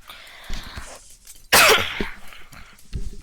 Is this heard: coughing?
yes